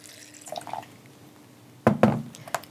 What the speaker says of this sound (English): Add water just to cover the flakes.